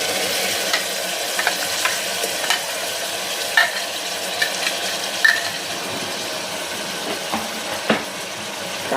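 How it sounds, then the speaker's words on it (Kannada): Ground masala frying with softened tomatoes for tomato rice, a steady loud sizzle broken by occasional soft stirring taps, close and continuous with no talk. "ಟೊಮೊಟೊನ ಸ್ವಲ್ಪ ಸಾಫ್ಟ್ ಆಗೋದು ಇದನ್ನು ಫ್ರೈ ಮಾಡ್ಕೊಳ್ಳೋಣ."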